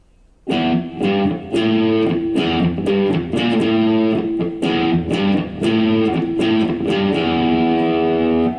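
A heavily distorted electric guitar plays a simplified beginner version of a riff, with sharp repeated chord hits in a steady rhythm and no voices.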